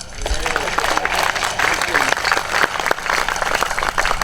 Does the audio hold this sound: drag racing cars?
no